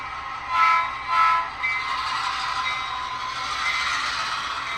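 A model GP38-2 diesel locomotive sound unit with two short horn toots up front, followed by a steady mechanical rumble and hiss that carries on to the end.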